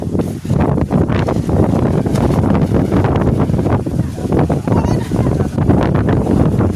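Strong wind buffets the microphone outdoors, a loud continuous roaring rumble with gusty surges throughout and no clear voices over it.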